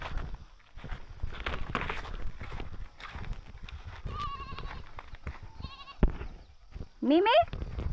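Goats bleat repeatedly while being herded through a hill village in Khotang, with several sharp calls in the latter half over a background of rustling movement and footsteps.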